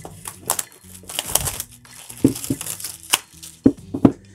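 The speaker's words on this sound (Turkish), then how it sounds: "Bir bıçak yardımıyla şu naylonu yırtalım." A knife tearing and slitting the crinkly plastic wrap on a TCL 10L phone box, close and loud, with crackling rips, sharp taps and scraping in irregular bursts.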